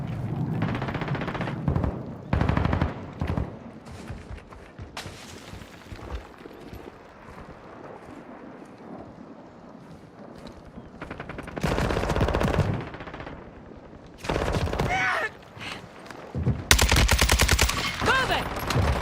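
Heavy gunfire in Warzone 2, dense automatic bursts and sharp shots coming in waves with loud peaks near the end, game voice callouts faintly mixed in.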